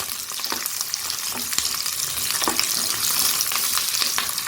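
Dry red chilies roast in coconut oil in a pan with a steady crackling sizzle and occasional scraping stirs, close and continuous.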